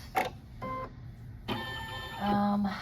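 An embroidery machine quilts a keychain design, giving short mechanical whirs and stitching bursts in a stop-start pattern, close and moderately loud.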